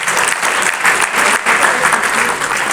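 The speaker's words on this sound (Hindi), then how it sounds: "आप ताली बजा के स्वागत करें" An audience claps loudly and steadily to welcome a doctor at a gathering, a dense sustained burst of applause with no break.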